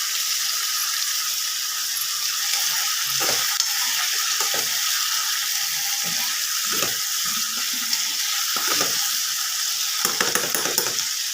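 Curry leaves sizzle and crackle in hot oil in a pan, with a steady frying hiss through the whole stretch and occasional stirring scrapes and soft clunks.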